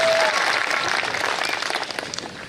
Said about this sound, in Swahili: tupigie Gen Z makofi lakini